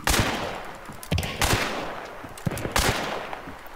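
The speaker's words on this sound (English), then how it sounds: "I'm suppressing fire a little bit." Gunfire in the video game Hunt: Showdown: several sharp shots and short bursts crack out at irregular intervals, some near and loud, others softer, each trailing into a decaying echo.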